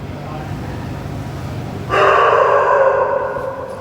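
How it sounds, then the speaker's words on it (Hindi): Many dogs bark near a hostel in a steady, overlapping chorus that grows louder partway through and continues to the end. "हॉस्टल में बहुत सारे डॉग्स हैं, इसके कारण से बहुत आवाज़ आता है"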